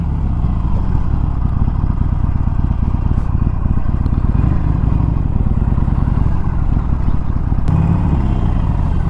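A Harley-Davidson Iron 1200 ridden on the road, a loud, steady engine drone with rumbling low end and constant wind and road noise throughout, no voices.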